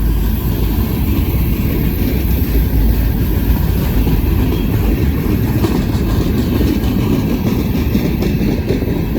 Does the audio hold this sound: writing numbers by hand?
no